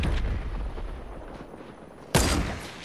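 Gunfire and sniper shots crack out in a shooter video game, a low rumbling barrage that fades, then one loud, sudden blast near the end.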